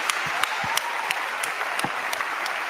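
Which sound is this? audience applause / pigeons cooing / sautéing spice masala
audience applause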